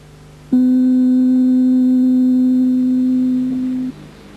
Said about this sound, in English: The knobs can be set to give any pure tone that's wanted